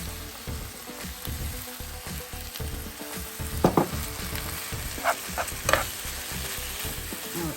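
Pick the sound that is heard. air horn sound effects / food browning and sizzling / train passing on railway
food browning and sizzling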